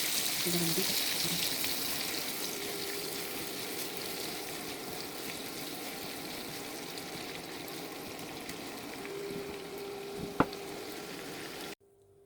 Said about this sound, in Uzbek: Mana piyozni qovurib oldik.